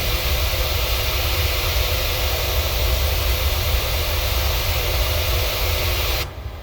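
Jet engines of a PMDG airliner spooling up for takeoff in Microsoft Flight Simulator, a loud, steady roar with broad hiss that continues unbroken and drops off abruptly near the end.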